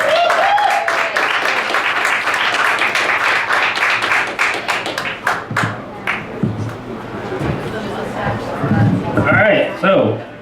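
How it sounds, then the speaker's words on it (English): An audience at a comedy night in a small cafe in Richmond, Virginia claps warmly and steadily for several seconds, the applause thinning into scattered claps and murmurs before a voice starts talking. "Help me give him a warm round of applause."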